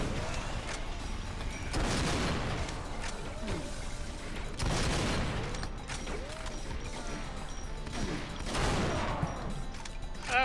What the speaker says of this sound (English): This is where the chain gun comes in handy.